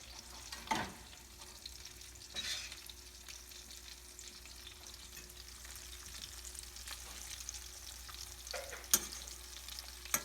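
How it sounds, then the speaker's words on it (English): Meatballs browning in a frying pan, a faint steady sizzle with occasional soft clinks and pops, no voices. "We're just browning them."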